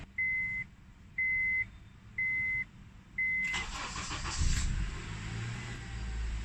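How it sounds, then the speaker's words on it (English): A Honda Accord engine starts after four evenly spaced dashboard chime beeps; the starter cranks briefly, then the engine catches and settles into a steady idle, recorded close by. "then start the car"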